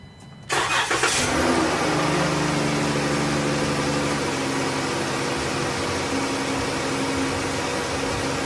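A 2011-2020 Dodge Grand Caravan engine cranks briefly and catches about half a second in, then settles into a steady, fairly loud idle hum close by, with no talking.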